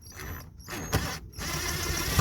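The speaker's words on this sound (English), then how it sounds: "Again 10mm bolt. I'm gonna use the impact gun" An impact gun undoes a 10mm bolt on a Toyota Yaris parking brake cable clamp, a short close burst of mechanical rattling hammering between brief pauses.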